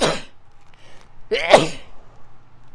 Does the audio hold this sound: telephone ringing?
no